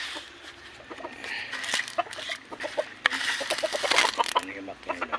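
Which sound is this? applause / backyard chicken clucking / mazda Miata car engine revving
backyard chicken clucking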